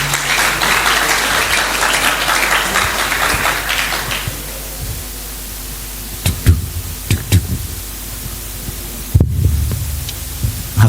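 A crowd claps through the first four seconds, a dense burst of applause that cuts off into low hum with scattered knocks and a thud near the end.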